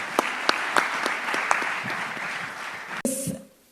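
A conference audience at the News9 Global Summit in the UAE gives the panelists a full round of applause, steady dense clapping with a few sharper claps. It ends abruptly into a short burst of stage sound and then quiet.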